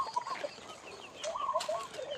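Faint clucking and chirpy calls from a few chickens gathering to feed at a temple in Lampang, Thailand, scattered and close by, with no talking.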